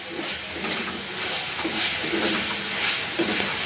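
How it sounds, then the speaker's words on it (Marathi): Ginger-garlic paste and green chillies sautéing in hot oil give a steady, close, broadband hiss and sizzle that holds without pause, with no voice over it. "आता आलं लसूण पेस्ट आणि हिरवी मिरची आपण थोडीशी थोडा वेळ परतून घेऊया"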